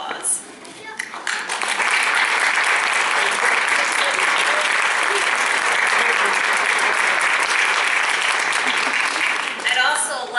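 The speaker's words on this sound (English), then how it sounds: "would you please raise your hand and let us give you an applause" Audience applause in a hall at a Marc Brown library centennial event, a dense, loud, sustained wash of clapping that swells after a quiet first second and runs steadily before tapering into a few scattered claps at the end.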